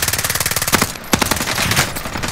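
Continuous rapid automatic gunfire from an NZ-41 rifle in Call of Duty on Rebirth Island, loud and close with a steady fast rhythm and no talking.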